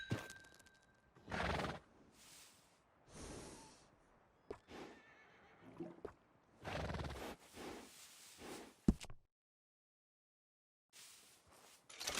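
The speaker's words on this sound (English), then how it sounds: "You got yourself a deal. And a fine new horse." Horse in the Red Dead Redemption 2 video game, with several loud, close whinnies and snorts alongside clip-clopping hooves, separated by short pauses and a silent gap near the end.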